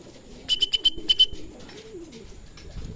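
Racing pigeons, among them a blue bar white flight bird, arrive at the loft with a quick run of sharp chirps, then a soft, low coo nearby, with no voices.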